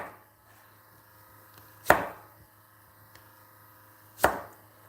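Two sharp, isolated knife chops through a soft vegetable on a cutting board, spaced a couple of seconds apart, close and clear over a quiet kitchen hum, with no talking.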